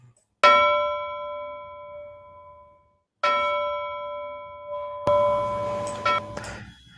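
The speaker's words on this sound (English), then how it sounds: "we will ring the bell" A small hand bell is struck three times for last call, each ring a bright clear tone that decays slowly, the last strikes coming closer together with some rattling, heard alone without talk.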